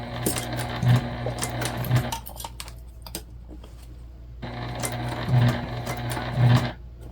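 A sewing machine stitching through bulky gusset fabric on a beginner circle bag, two bursts of fast rhythmic clattering separated by a quieter pause, close and loud with no talking.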